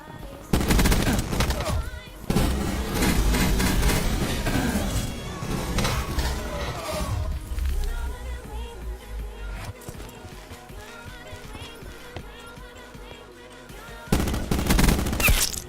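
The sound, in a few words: gunfire bursts from a video game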